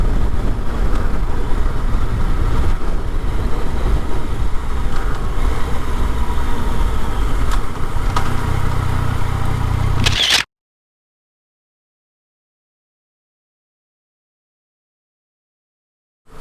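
A Yamaha Tracer 900 motorcycle is ridden, with a steady low engine drone under wind rush, ending abruptly in silence about ten seconds in.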